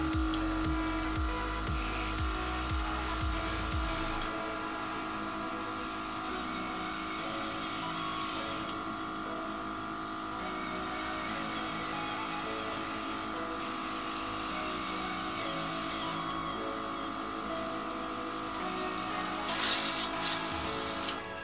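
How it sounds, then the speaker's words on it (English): Small airbrush makeup compressor humming steadily in the background throughout, a constant electric drone with light ticking, no talk over it. "So if you hear the noise, that's just a compressor."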